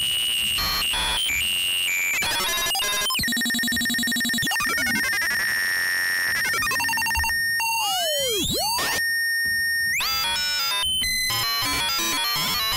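Schlappi Engineering Interstellar Radio synth module under LFO modulation, sweeping through harsh, shifting electronic tones, bleeps and radio-like glides, loud and busy with abrupt changes and no voices.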